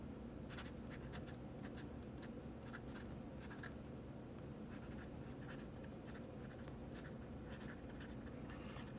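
Soft scratchy strokes from a Sailor 1911 fountain pen with a medium gold nib writing on paper: close, quiet, with short bursts of nib feedback and brief lifts between words.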